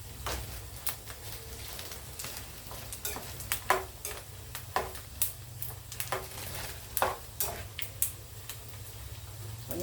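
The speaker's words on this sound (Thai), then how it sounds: "วันนี้จะทอดนานกว่าเมื่อวานค่ะ" Pork rinds (khaep mu) are stirred while frying in hot oil, with a steady close sizzle under repeated sharp scraping and clacking strokes of the utensil against the pan.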